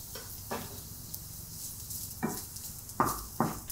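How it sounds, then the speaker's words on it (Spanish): Garlic frying in extra virgin olive oil in a pan gives a steady close sizzle, broken by several scraping stirs of a utensil, with no voices. "En una sartén echamos un chorrito de aceite de oliva virgen extra y echamos el ajo"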